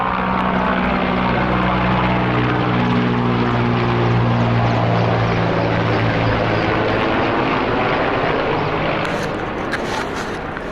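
An aircraft flies over during the Turkey wildfires, a loud, steady propeller-engine drone with strong harmonic tones that holds for the whole stretch with no one speaking.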